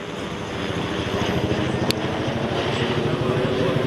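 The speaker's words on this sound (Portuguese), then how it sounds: "Temos até helicóptero hoje aqui na Praça da Espanha." A helicopter flies over Praça da Espanha during a car meet, a loud steady rotor chop and engine drone filling the short stretch, with a voice talking over it.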